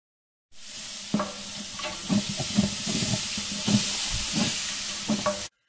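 A pot of sizzling vegetables for chili on a hot stove gets stirred, a loud continuous hiss with repeated scraping and knocking strokes of the spoon against the pot, close by and without speech.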